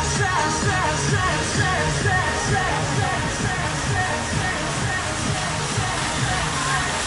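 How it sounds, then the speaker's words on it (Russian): Fine water mist sprayed over visitors to cool them at The Land of Legends water park in Turkey, a steady broad hiss mixed with sloshing water and crowd voices that persist throughout. "Распыляют воду мелко"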